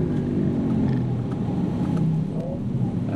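Audi RS 6 wagon with a 600 hp V8 biturbo pulls hard on a race track, a loud, steady engine roar with deep rumble from inside the cabin, holding continuous throttle without breaks.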